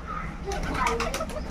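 Pet flying pigeons coo softly in a loft at dusk, with a quick flutter of wings near the close and a voice talking over them.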